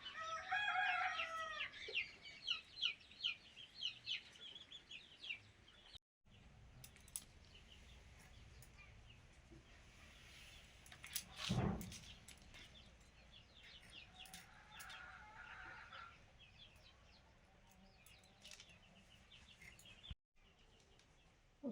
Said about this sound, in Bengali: আরে মুরগিটা তো ভয় পাইছে মনে হয়।